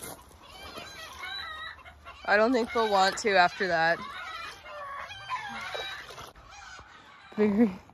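Chickens cluck and squawk loudly nearby in a few bursts, with a person speaking briefly between them.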